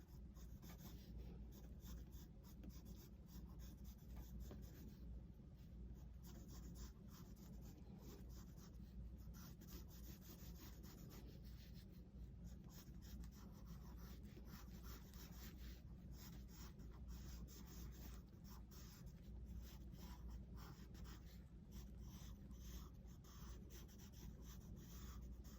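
Pencil shading a flamingo drawing on paper, a steady close scratchy rubbing that continues without pause, quiet and alone without talk.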